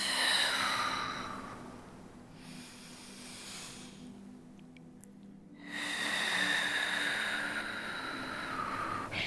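Slow yoga breathing sounds close and soft, with long, airy inhales and exhales drawn out over several seconds and no talking.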